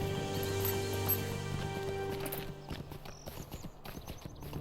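Steady clip-clop of horse hooves on steep, rocky ground in the online game Lord of the Rings Online, rhythmic and fairly close over a soft ambient music bed, occasional snorts.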